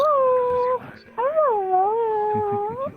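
A dog in a video game lets out a drawn-out whimpering howl, rising and wavering in pitch, broken by a brief pause, heard close and clear.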